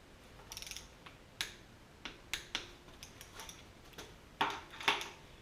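Ratchet wrench clicking as it tightens intake manifold bolts on the engine of a 1966 Ford Galaxie 500 during restoration, in short irregular bursts of close, crisp ratcheting ticks with gaps between strokes.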